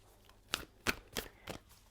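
Four quick riffling bursts of tarot cards being shuffled, evenly spaced and close, with quiet pauses between.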